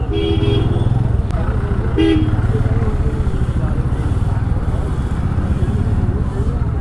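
Dense street traffic in India outside a courts area crowded with lawyers, with a steady engine roar, a couple of sharp horn toots early and midway, and someone talking over the noise.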